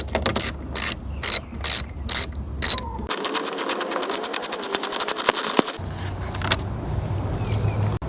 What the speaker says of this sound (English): using a 10mm socket, just going to remove the nuts